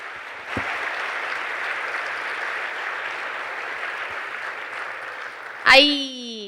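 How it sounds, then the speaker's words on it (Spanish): Audience applause at a book fair event, a steady broadband wash of clapping sustained for several seconds, then a short loud burst of voice or music near the end. "Por favor, un aplauso."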